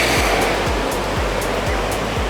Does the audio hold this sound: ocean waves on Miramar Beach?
yes